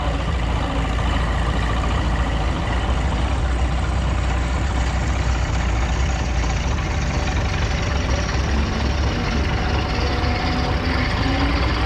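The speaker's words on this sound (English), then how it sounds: "This is a 1220 case cross motor, also part of the Weiss collection out of Illinois." A Case 1220 cross motor tractor, the smallest model made, runs steadily in a threshing show parade, giving a loud continuous low engine rumble with a dense, unchanging drone throughout.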